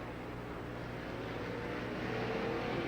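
Late model race cars roar steadily around Lernerville Speedway in Sarver, Pennsylvania, a continuous loud engine drone from the pack with no talk over it.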